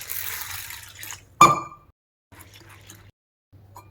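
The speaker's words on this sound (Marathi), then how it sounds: "आपण चना डाळ घ्यायची, ती स्वच्छ एकदा धुवून घ्यायची." Chana dal washed in water, with splashing and swishing at the start, one sharp clatter, then brief quiet pouring sounds separated by silences.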